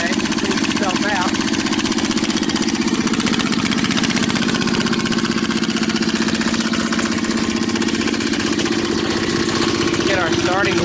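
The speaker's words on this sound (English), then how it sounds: "We're even pumping a little smoke there as the engine cleans itself out." An engine idles loudly and steadily throughout, a constant deep rumble close by with a rough, throbbing texture.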